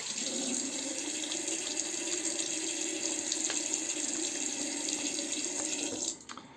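Tap water runs steadily and close by while an adjustable razor is rinsed under it. The flow is continuous and loud, then stops abruptly near the end, with no voices.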